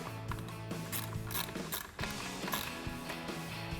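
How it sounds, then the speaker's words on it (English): A ratchet with an 8mm socket tightens hose clamps on a Jeep Wrangler JK cold air intake, giving quick bursts of close, crisp clicking with short pauses between strokes. "Now we're going to snug them down using our 8mm socket"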